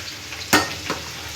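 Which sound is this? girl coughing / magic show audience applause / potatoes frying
potatoes frying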